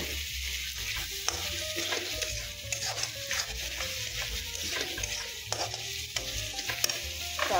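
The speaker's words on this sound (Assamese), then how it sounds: "এইখিনি চাওক ভাজি তেলটো ওলাই গৈছে" Chicken seasoned with turmeric fries in hot oil in a pan, a steady close sizzle broken by repeated scraping stirs of the spoon against the pan, with no talking.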